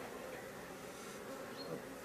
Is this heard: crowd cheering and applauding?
no